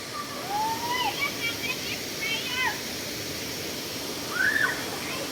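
Tad Noi waterfall in Udon Thani, Thailand, gives a steady rushing roar of falling water that holds throughout, moderately loud, with a few high bird calls and faint sounds rising briefly over it.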